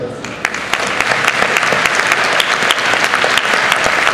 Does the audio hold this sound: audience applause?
yes